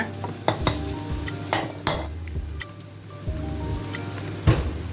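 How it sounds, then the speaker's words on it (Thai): Eggs sizzle in a hot wok while a utensil scrapes and stirs, with occasional sharp metallic clanks against the pan. "เราก็จะรวนไข่ให้มัน แห้งนะ ให้กระทะแห้งไปเลยนะครับ"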